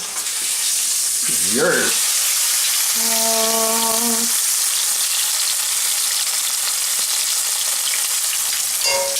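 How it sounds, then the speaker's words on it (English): Green beans frying in melted butter in a hot pan, a loud, constant crackling sizzle running throughout, with a brief spoken word and a couple of short whistling tones partway through. "let's get the green beans started. We got a pan hot over here. Nice couple chunks of butter there."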